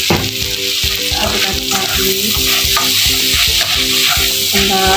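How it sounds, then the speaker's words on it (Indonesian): Vegetables with sweet soy sauce and instant noodles sizzling loudly in a pan while being stirred, a constant close frying hiss with a rhythmic scrape and clatter of the utensil throughout. "Kita aduk sampai rata."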